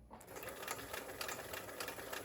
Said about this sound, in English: here it's sewing 3 millimeter stitches